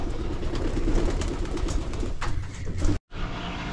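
Pigeons coo softly and repeatedly at close range in a rolling, murmuring chorus, with a faint rumble in the background and a brief cut near the end.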